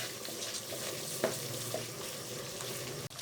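Spices with red chili and dry coriander powder frying in a pan, giving a steady soft sizzle with a couple of faint stirring clicks, alone and fairly quiet.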